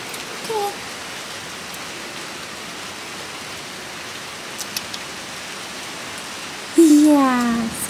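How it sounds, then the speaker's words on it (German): Steady rain falls outdoors as a continuous soft hiss throughout, with a few brief sounds rising above it near the end. "Einfach hier zu sitzen und dem Regen zuzuschauen."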